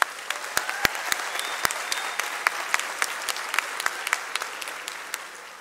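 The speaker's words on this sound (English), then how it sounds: "let's give ourselves a big round of applause" A high school graduation crowd claps for the graduating class, a steady wash of applause punctuated by loud, distinct individual claps close by, continuous for several seconds.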